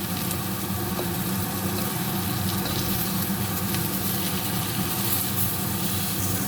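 Potatoes and eggplant fry in hot oil in a kadai, giving a steady, even sizzle and crackle at moderate volume with no break in the sound.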